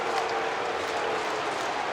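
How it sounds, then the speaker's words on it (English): Mets fans cheering among a sold-out crowd at a Phillies baseball game, a steady, loud wash of crowd roar and applause filling the stadium throughout. "Some Mets fans beginning to cheer."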